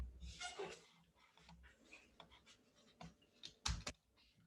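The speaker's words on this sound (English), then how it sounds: "I'm a bit slow with Finnish keyboard" Typing on a Finnish-layout computer keyboard, irregular bursts of close, crisp key clicks with short pauses between them and no talk over them.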